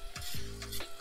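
Garlic and tomatoes frying in a pan for a rice and minced beefsteak skillet, with a short burst of stirring scrapes over a steady sizzle, close and alone.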